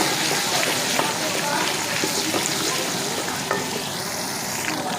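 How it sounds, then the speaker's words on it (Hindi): Onion, tomato and green chili paste frying in a pan for sarson ka saag, giving a steady close sizzle with faint stirring scrapes throughout. "इसे हम 2 से 3 मिनट तक अच्छे से भूनेंगे।"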